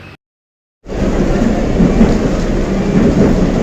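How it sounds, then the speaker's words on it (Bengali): Inside a moving metro carriage heading toward Baranagar station, a steady heavy rumble of wheels and motor fills the car after a brief cut of silence, loud and continuous with no talking. "আর সঙ্গে সঙ্গে মেট্রোটা পেয়েও গেছি, আর মেট্রোতে অলরেডি উঠেও পড়েছি"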